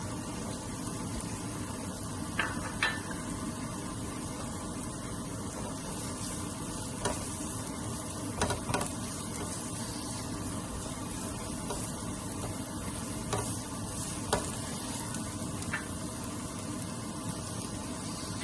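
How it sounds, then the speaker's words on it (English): Onion and garlic sauté in a hot pan before minced pork goes in for fried rice, giving a continuous steady sizzle with occasional soft stirring scrapes, no talk. "I prefer to saute the onion first and then garlic."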